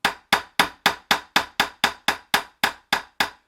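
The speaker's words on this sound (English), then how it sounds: "I'm using the Weaver Heritage tool, just the hand setter. 4 taps with that" A hammer strikes a Weaver Heritage hand setter on leather about a dozen times, each tap sharp, close and evenly spaced, with no talking.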